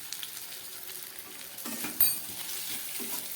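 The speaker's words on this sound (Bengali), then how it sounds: "জিরে আদা লঙ্কা দিয়ে খুব ভালো করে কষিয়ে নিলাম।" Cumin, ginger and chilli are sautéed in a hot pan, giving a steady close sizzle and hiss with stirring, broken by one sharp metallic clink midway.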